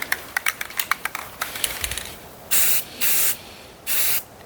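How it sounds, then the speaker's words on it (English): Spray can putting a coat of paint on metal: a run of rapid ticking clicks from shaking or the nozzle, then three distinct loud hissing bursts of spray, each lasting about half a second, close up. "so I can put a coat of paint on there"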